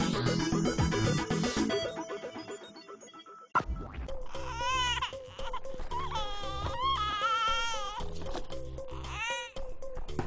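A baby cries at night. Wavering high-pitched wails rise and fall over a musical background after an abrupt cut from busier music.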